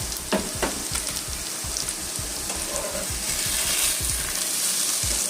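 Vegetables, papaya and ridge gourd, frying in a pan, a continuous close sizzle with frequent rhythmic bubbling crackles and occasional spatula scrapes, no talking.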